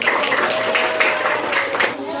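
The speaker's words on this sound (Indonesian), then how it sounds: "Kalau tidak ada, berikan tepuk tangan." Students in a classroom giving a round of applause after group presentations, a brief burst of clapping with a voice over it.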